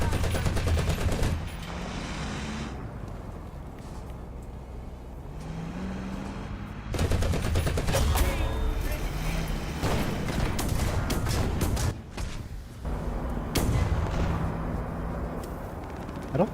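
Machine gun fire in the horror video game Lost in Vivo comes in long, loud, continuous bursts with a brief lull between them, dense and close.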